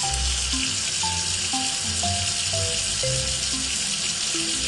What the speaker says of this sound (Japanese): お湯で泡を洗い流そう。